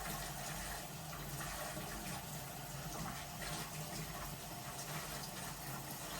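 Coffee machine parts being rinsed by hand under a running tap, a steady, fairly faint stream of water splashing continuously with no pauses or voices.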